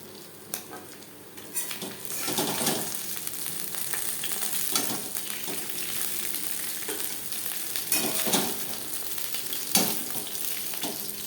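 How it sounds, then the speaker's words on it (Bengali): Tangra fish sizzles steadily in hot oil close by, with occasional clinks and scrapes of a utensil against the pan. "মাছ ভাজা হয়ে গেছে"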